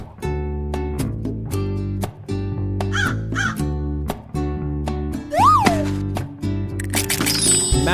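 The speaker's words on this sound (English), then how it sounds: "Crow." Several crow caws ring out over a bouncy, rhythmic electronic music track, with a couple of higher squawks scattered between them.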